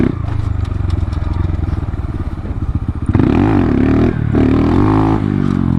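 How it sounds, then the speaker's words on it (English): A Honda Grom motorcycle revs hard during a wheelie, its engine note climbing and dipping in rapid bursts, close and loud with rattling clatter throughout. "I'm going to try to do a wheelie for a second."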